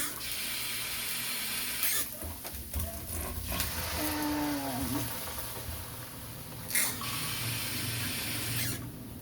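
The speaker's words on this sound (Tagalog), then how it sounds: "lagyan ko muna ng kaunting tubig." A little water is poured into a cooking pan in a home kitchen, a soft splashing wash with brief clinks and a short squeal of cookware, while someone talks quietly alongside.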